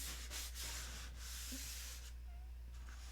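Fine sanding of the painted finish on a model airplane, a soft continuous hissing rub in short back-and-forth strokes over a steady low electrical hum, close and quiet with no talking.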